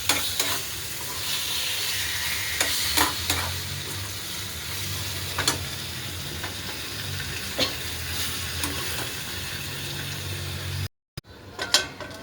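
Potato bhaji stirring and frying in a pan: a steady close sizzle with scraping spoon strokes at irregular moments, then a brief dropout near the end.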